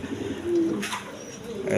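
A tagged pair of Mili Reshar pigeons gives a faint, brief coo, one short low note in quiet surroundings.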